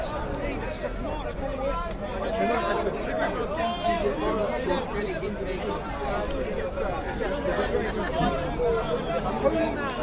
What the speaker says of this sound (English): Sounds like a busy lot over there.